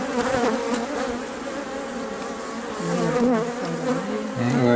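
Honey bees buzz at an open hive during requeening, a dense, continuous drone of many insects close by, with individual whines rising and falling through the swarm.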